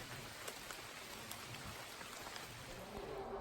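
Rain falling on a cloudy, foggy day near a trail shelter: a steady, faint wash of patter with occasional louder drops, continuous and distant, with no voices.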